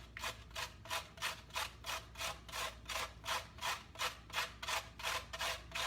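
Carrot rubbed against a grater, giving a close, rhythmic series of about a dozen rasping strokes at an even pace and moderate loudness.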